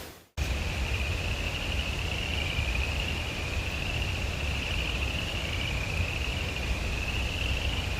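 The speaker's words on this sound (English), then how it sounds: "You can hear the frogs" Frogs call near a rain-swollen waterfall in the Smoky Mountains in February, a continuous high trill over the loud steady roar of rushing water.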